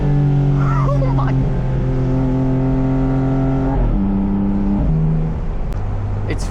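Porsche 718 Spyder RS engine holding a steady loud drone while driving, its pitch stepping down through several shifts as it eases off, with brief spoken bits over it.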